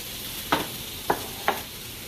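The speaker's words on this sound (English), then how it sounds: "I'm going to start cooking my sausage" Turkey sausage cooks on a stovetop, a steady faint sizzle broken by three distinct scraping or stirring taps spaced about half a second apart, with no one talking.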